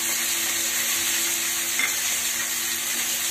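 Steady bright sizzle of green chilies, cashews, garlic and onion frying in hot oil, a close continuous hiss with a faint stir or two and no voices.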